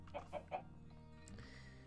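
A few soft game chickens cluck in a Minecraft modpack (All the Mods 6), three short bursts close together early on, then quieter background tones.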